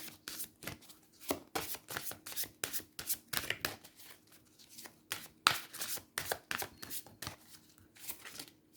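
Oracle cards are handled and shuffled in quick, crisp riffles and taps, a steady run of close papery flutters with brief pauses between bursts.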